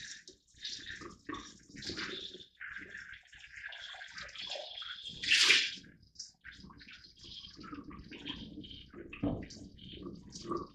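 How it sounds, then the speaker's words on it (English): Tap water rinses and sheets over a glass surface being prepared for silvering, a soft, uneven splashing wash that runs steadily throughout, with a brief louder gush near the middle. "I'm going to rinse it off. And one of the ways that I know that I'm clean enough is I'm going to watch that the water is sheeting over my glass surface here."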